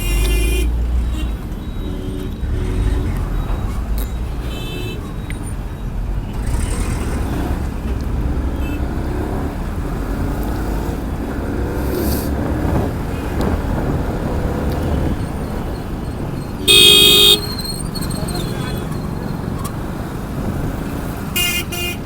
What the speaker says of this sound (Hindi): ट्रैफिक तो है यार दोस्तों